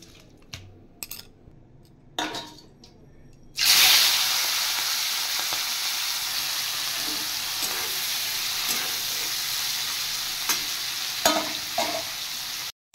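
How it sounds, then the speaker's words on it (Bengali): Prawns coated in turmeric and salt drop into a pan, and after a few quiet knocks a loud burst of sizzle breaks out, then settles into a steady hiss with occasional scrapes and clatters; nobody talks. "এবার চিংড়ি মাছটা রান্না করব। হলুদ নুন নিয়ে মাখিয়ে নিয়ে একেবারে ভেজে নেব পুরোটা।"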